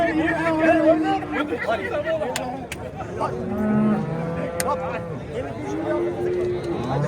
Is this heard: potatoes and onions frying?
no